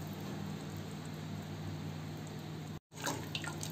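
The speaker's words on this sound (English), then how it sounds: "So I just added little water to it." A little water is poured into meat stock for Nigerian egusi soup, a faint continuous trickle and hiss close by, with a short cut and a few soft clinks at the end.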